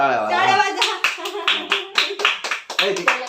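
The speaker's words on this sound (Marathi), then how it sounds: "टाळ्या वाजा" At a family anniversary celebration for parents, people clap in a rapid, uneven burst of hand claps close by, and a voice speaks over the opening moments.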